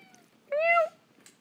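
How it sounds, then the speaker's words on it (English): A house cat lets out a single short, clear meow close by, lasting under half a second in an otherwise quiet room. "There's my kitty, Charcoal."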